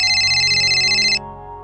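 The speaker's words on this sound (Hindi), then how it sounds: "ले फोन आ गया।" An electronic phone ringtone trills loudly and continuously in a close, steady pulsing pattern, then cuts off abruptly after about a second, leaving a quiet hum in a Haryanvi film scene.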